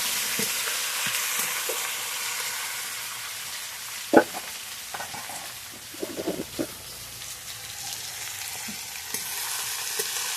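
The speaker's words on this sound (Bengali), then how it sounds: "এগুলো ভাজা ভাজা হওয়ার পরে মাংসগুলো ঢেলে দিলাম।" Meat frying with onions in a wok, a dense continuous sizzle up close, with a few sharp spatula knocks and scraping stirs scattered through it.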